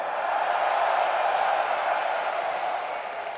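A large arena crowd at the EVO 2023 fighting game event cheers and yells in a loud, sustained roar that stays steady for the whole stretch and only eases slightly at the end.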